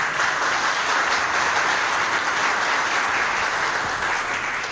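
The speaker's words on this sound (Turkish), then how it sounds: "bir alkış hak ettiklerini düşünüyorum" Dense, sustained audience applause rolls on evenly throughout, loud and continuous with no voices breaking through.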